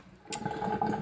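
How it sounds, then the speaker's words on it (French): Hot water drains from beef through a colander into a kitchen sink, starting with a sudden splash and continuing as a close, steady gurgling pour with no talk. "j'enlève toute l'eau chaude ici pour éviter que ma viande ne tombe dans le bac de mon évier"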